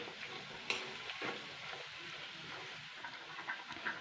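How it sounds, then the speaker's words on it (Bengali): Onion frying in oil with nigella seeds, a green chilli and a dried chilli, a soft steady sizzle with light crackles and occasional spatula scrapes, fairly quiet and close. "এইটাও আমি এর মধ্যে 2 মিনিট মতন ভেজে নেবো পেঁয়াজটা"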